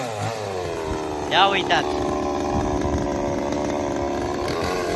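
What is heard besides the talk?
chainsaw running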